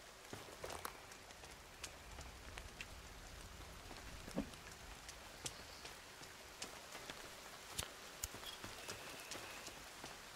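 Steady light rainfall in the video game The Forest, with scattered drops tapping on surfaces, soft and continuous throughout, no voices.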